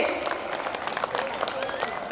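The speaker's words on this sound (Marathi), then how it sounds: "जोरदार टाळ्या झाल्याच पाहिजेत" Crowd applause at a Shivaji Maharaj Jayanti celebration, a steady patter of many hands clapping at moderate distance, fairly quiet, with voices mixed in underneath.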